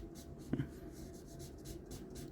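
A marker pen scratches softly across paper while coloring a Super Saiyan Blue Goku drawing, a faint, steady scribbling texture with a small tap near the start.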